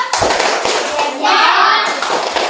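Children in a combined primary classroom do a tepuk jempol clap chant, with a few sharp claps and taps mixed with their chanting voices, close and lively.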